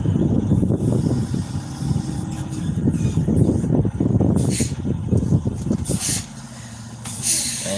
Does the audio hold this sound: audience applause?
no